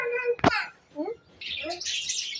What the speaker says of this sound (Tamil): இதுக்குள்ள ஒரு இந்த குருவி, இது லவ் பேர்ட்ஸ் மாதிரி தான் இருக்குது.